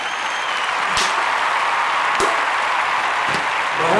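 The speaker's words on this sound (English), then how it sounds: "Give yourselves a wonderful round of applause." Primary school children applaud at a singing assembly, a continuous dense patter of many small hands with a few sharper claps popping out over the steady wash.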